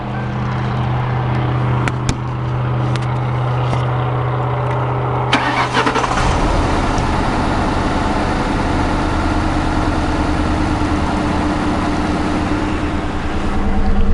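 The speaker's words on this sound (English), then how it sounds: "here's the motor." A 2006 Crown Victoria Police Interceptor V8 cranks and settles into a loud, steady, rough idle, recorded up close from inside the car.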